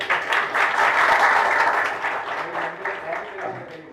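An audience at a music video album poster launch ceremony bursts into applause, a loud, close, dense clatter of clapping that peaks early and gradually thins out over four seconds.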